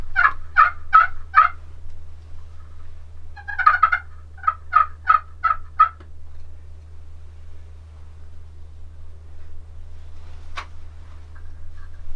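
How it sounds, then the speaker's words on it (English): Wild turkey gobblers gobble out in the hunting woods, two rapid rattling bursts a few seconds apart, each a quick string of four or five notes, moderately near and otherwise quiet surroundings. "Hear that? Yeah. There's 2 gobblers."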